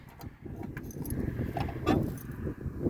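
A key jingles and scrapes as it is pushed partway into the lock of the gas door on a 1978 Honda Civic barn find, a close, steady rattle of metal with a brief louder clink near the end.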